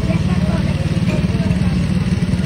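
A motorcycle strains uphill carrying a large, heavy cabinet, its engine throbbing in a steady low pulsing rumble close by.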